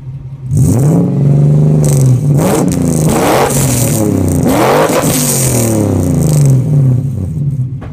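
A 1991 Toyota pickup with a swapped 1993 Lexus LS400 1UZ-FE V8 is revved several times in quick succession, each blip rising sharply and falling back, loud and close with no talking.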